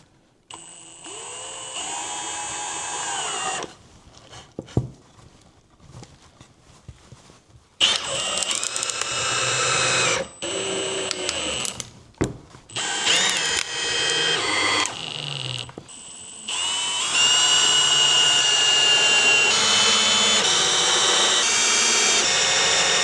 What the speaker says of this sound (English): we'll drive 2 of these pan head screws in